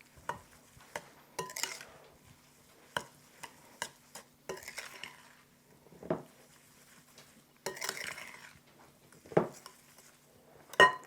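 Soft butter being stirred for a rice pudding batter, with scattered scrapes and clinks of a spoon against the bowl at an irregular pace, close and fairly quiet with no voices.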